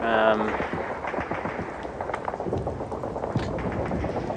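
A heavy exchange of gunfire in the wargame Steel Panthers: World at War, with dense, overlapping shots and bursts sounding continuously at moderate loudness throughout.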